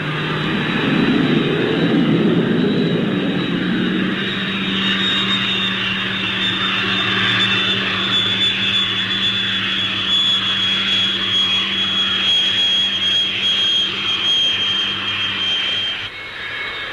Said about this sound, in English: An increasingly common practice with high-speed aircraft is followed by the Nat, the use of a parachute brake when landing.